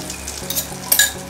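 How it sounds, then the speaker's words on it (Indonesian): Eggs frying in leftover dark oil from cooking sambal terasi ingredients, a steady close sizzle with brief louder crackles and light stirring clinks, no talking. "Maksudnya tetap dipakai untuk menggoreng telur."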